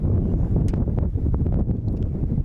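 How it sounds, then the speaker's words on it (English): A gust of wind buffets the microphone at an outdoor NCAA college baseball game, a loud rumbling roar that fills the short stretch with no other clear sounds. "Wind blowing right into our faces"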